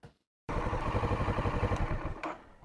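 A Kawasaki Z650 motorcycle engine starts up suddenly after a moment of silence and runs with a loud, close, rhythmic pulsing throb, then begins to tail off near the end.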